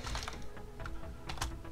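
Fast keystrokes clatter on a computer keyboard while Python code is entered, a close, busy run of clicks with a few louder taps and no talking.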